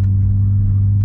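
Turbocharged 800hp Porsche GT3 Cup car built for the street, a loud, steady low engine drone held at one pitch for about a second, with no other sounds.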